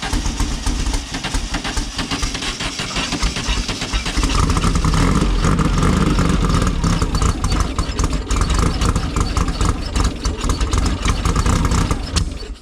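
A Mosquito engine running loud and close, a dense steady roar that swells louder about a third of the way in and holds, with faint voices underneath.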